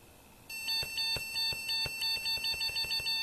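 Computer motherboard error beeps at startup, a rapid series of short, shrill tones repeating in an uneven rhythm over a low fan hum, close and fairly clear.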